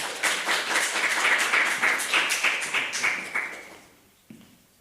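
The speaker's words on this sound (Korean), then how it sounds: "한번 클라우스에게 한번 박수 한번" An audience claps for a clarinet player at a church service, a dense burst of applause that holds steady for about three seconds, then thins out and fades, with one last stray clap near the end.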